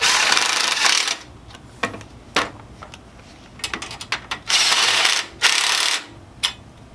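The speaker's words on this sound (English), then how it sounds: "and then we'll just tighten down that hardware now." Hardware being tightened on a glider chair's bearing arms gives bursts of ratcheting clicks and mechanical clatter, close and fairly loud, separated by short quiet pauses.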